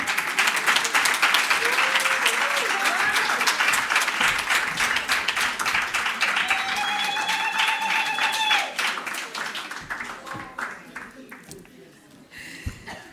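A large audience applauds in sustained clapping that gradually thins out and fades, with a voice speaking over the tail end.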